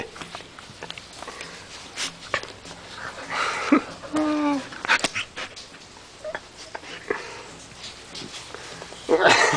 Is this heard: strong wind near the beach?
no